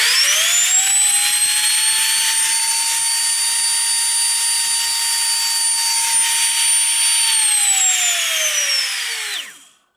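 A 36-volt motor in a Ryobi-battery-powered Power Wheels ride-on car winds up to a loud, high zinging whine, holds it steadily for several seconds, then spins down and falls silent.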